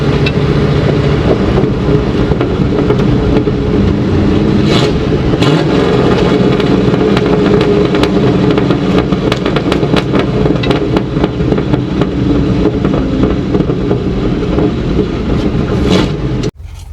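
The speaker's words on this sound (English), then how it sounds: "little peace disturbing truck for sure." An old Dentside Ford truck engine runs loud and rough, holding a heavy, continuous roar with slight rises in revs, close by, before dropping off sharply at the very end.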